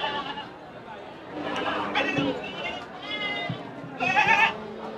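Goats bleat at a busy livestock market in Hazratpur, Bangladesh, with several loud, close calls rising over steady crowd chatter from buyers and sellers.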